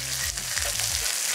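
Costco tilapia fillets pan-frying in oil, cooked by a Chinese chef: a dense, continuous close sizzle with a low droning hum underneath, no voices.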